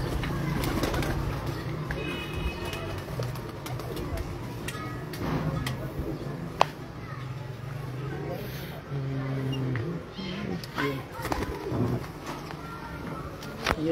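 A champion female pigeon from Lahore coos softly in low, repeated murmurs amid light ticking and background chatter, with people talking nearby throughout.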